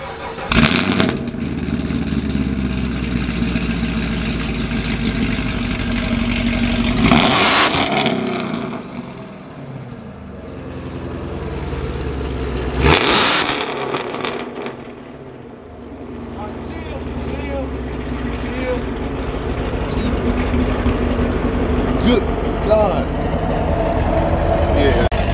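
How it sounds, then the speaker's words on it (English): A supercharged sixth-generation Camaro SS on stock mufflers idles loudly up close, then revs hard twice in sharp roaring bursts before settling back to a rumbling idle. "Give us an exhaust clip."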